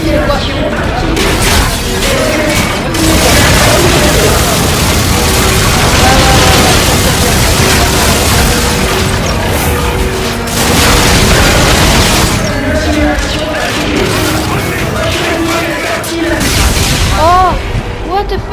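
Gunfire and heavy explosions in the Call of Duty: Infinite Warfare campaign, dense booming blasts and crackling shots layered continuously throughout, loud and close, with game voices and a player talking in French over the chaos.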